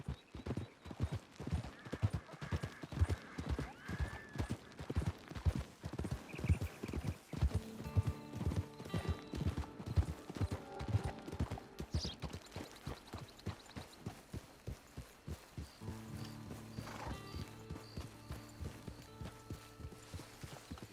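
Steady clip-clop of a horse's hooves, loud and close, keeping an even walking rhythm while approaching a camp; a brief whinny cuts in midway, and low tonal background sounds join toward the end.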